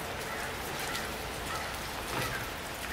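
Rain falls outdoors on a chilly day, a soft, steady hiss of drops with faint scattered patters, continuous and low in level throughout.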